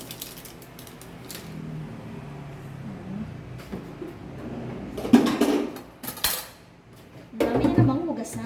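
Dishes, pots and cutlery clink and clatter in a home kitchen sink during washing up after cooking paksiw na bangus, with a couple of louder bursts of knocking metal and faint talk in the background.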